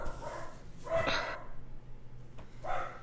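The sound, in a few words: dogs barking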